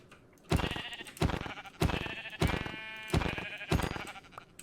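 A Minecraft sheep bleats five times in a steady rhythm, each call loud and close with short quiet gaps between.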